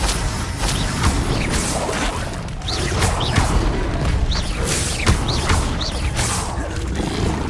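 Levioso levitation spell cast in Hogwarts Legacy amid combat, with repeated swishing whooshes and soft magical thumps over a steady, dense wash of game effects.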